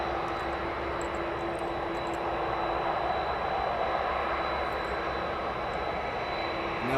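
An airliner sits on the runway at East Midlands Airport with its spoilers up, its engines giving a steady, fairly loud roar and whine that holds evenly, heard at a distance with no talk.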